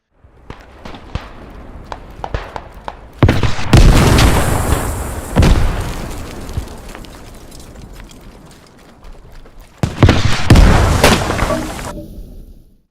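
Heavy artillery booms from the Beyond the Wire game go off in loud, rumbling blasts, one big burst early and another later. Quieter clatter and footstep-like sounds fill the gaps between them.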